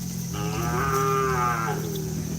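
A cow lets out a single long, close moo in a field at Asam Manis, Pamekasan, where cattle are being trained, over a steady low engine-like drone.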